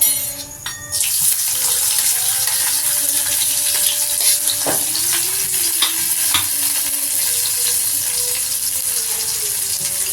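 Chopped onion drops into hot oil already holding flour and carom seeds and erupts into a loud, dense, continuous sizzle, close up, with occasional stirring knocks and no voices.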